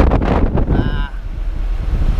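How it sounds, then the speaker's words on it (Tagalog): Strong wind buffets the microphone outdoors in the Misamis Occidental area, with a low, steady rumble and gusty roar. A brief voice sounds near the start, and surf or water may blend into the wind. "Buti mahangin. Hangin no."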